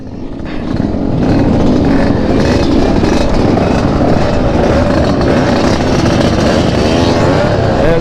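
A Kawasaki Ninja motorcycle pulls hard on the road during a long-distance touring ride, its engine note rising into a steady, loud roar with wind rush that continues without a break.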